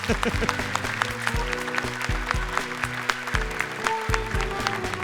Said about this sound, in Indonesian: Tepuk tangan untuk Kak Nabila